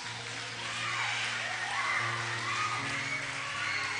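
A church congregation at a family jubilee service claps together in a dense, continuous wash of applause, crowd-like and steady throughout, with no clear pauses.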